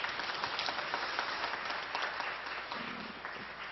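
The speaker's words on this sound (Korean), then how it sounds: "우리 성가대를 다시 한번 감사의 박수를 올리겠습니다" Church congregation applauding the choir during a Sunday service, a dense, steady wash of many hands clapping at moderate distance, sustained evenly throughout with no voices over it.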